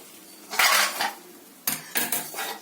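A steel pot and ladle clink and scrape while tamarind-pod stew is served into a bowl, two bursts of close metallic clatter separated by a short pause.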